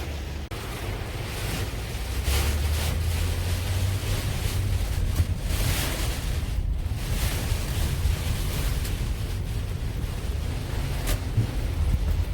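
The Kano River in flood during Typhoon 19, a continuous heavy roar of rushing water mixed with wind buffeting the microphone, loud and unbroken with occasional gusty surges.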